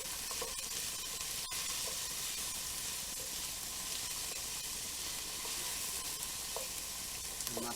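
A whole chopped yellow onion sizzling in a hot pan for a vegetarian chili, a constant dense frying hiss with occasional faint stirring clicks, steady and close, no talking.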